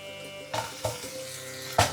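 Potatoes are added to golden fried onion and green chili in a hot pan, giving a steady sizzle. Three sharp bursts of hissing and clatter come close by as the pieces drop in and are moved around.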